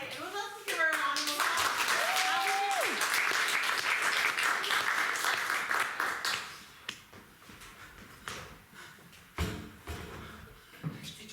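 An audience at an improv comedy show applauds a performer, a dense, steady wash of clapping that runs for several seconds after a voice and then thins into scattered quieter sounds.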